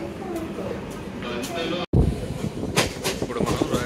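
A passenger train running from Bangalore to Malur rumbles and clatters steadily from inside the carriage, with a brief cutout midway and people talking over it.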